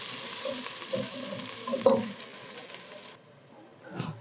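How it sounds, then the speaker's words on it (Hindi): Onions sizzle quietly in hot oil after cumin has been tempered, a soft crackling hiss with a few louder pops, close and low in level, fading near the end. "ज़ीरा हमारा तड़क चुका है, इसमें अब हम डाल देते हैं प्याज"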